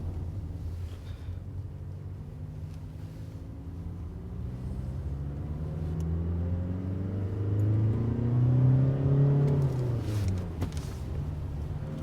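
An Audi TDI diesel car with a stuck-lean rear oxygen sensor fault accelerates hard through its gears, engine drone climbing steadily in pitch and then dropping at a shift, heard from inside the car at moderate loudness.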